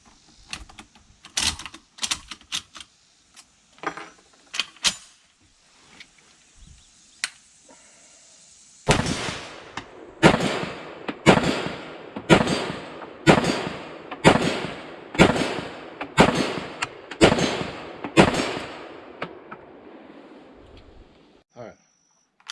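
A Norinco SKS rifle fires at targets 100 yards away, with about ten loud, sharp reports in a steady rhythm roughly a second apart, after scattered clicks and handling sounds.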